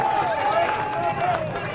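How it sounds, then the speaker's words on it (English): Football crowd at an EFNL Division 2 Reserves grand final, Waverley Blues against Wantirna South, rising in a brief roar of cheering and scattered claps after a free kick, with a commentator talking over it. "free kick, crowd loves it"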